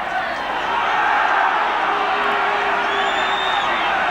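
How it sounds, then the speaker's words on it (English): Rugby league crowd at a Workington versus Leeds match reacting to a swinging-arm foul, a dense, steady roar of many voices with a rising whistle or whoop near the end, broad and continuous rather than punctuated. "The crowd didn't like it."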